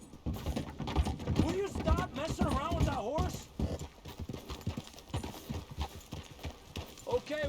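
Horse hooves clip-clop steadily in Red Dead Redemption 2, a rhythmic trot running through the whole stretch under a voice talking and some game music.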